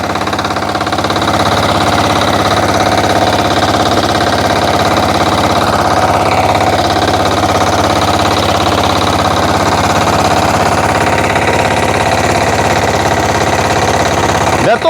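A walk-behind tractor engine runs loud and close for the whole stretch, a continuous rough, knocking drone with a steady pulse and no pauses while the machine is driven.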